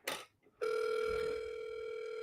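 A brief click and bit of line noise give way to a steady, loud electronic telephone tone that holds evenly while a real-estate office call is being transferred.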